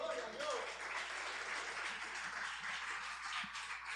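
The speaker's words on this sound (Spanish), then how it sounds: "Puedes darle un aplauso a Dios." Church congregation applauding, a fairly faint, continuous wash of many hands clapping, with voices mixed in during the service.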